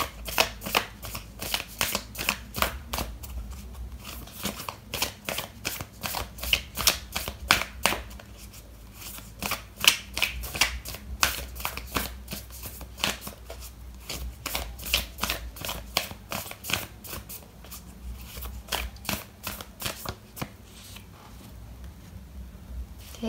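Oracle cards are shuffled by hand up close, a long run of rapid, rhythmic riffling flutters repeating in quick bursts with only brief pauses.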